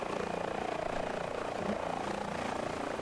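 Helicopter in a steady hover during a vertical climb and descent, a continuous rotor and engine drone with rhythmic blade beating, heard fairly close and alone throughout.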